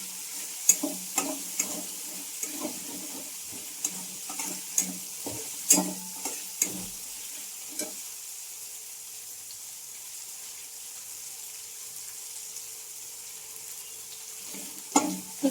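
Stuffed brinjals fry in a pan with a steady soft sizzle while a spoon scrapes and stirs in repeated clattering strokes, then the pan sizzles quietly alone before a few final stirs.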